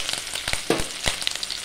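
Curry leaves and sliced shallots crackle in hot oil for a mochai bean kulambu, with sharp spitting pops and a steady sizzle close by.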